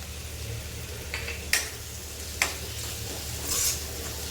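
Onion, garlic and masala sautéed in a pan, with soft, quiet sizzling under a low hum and a few sharp clinks of a spoon stirring against the pan.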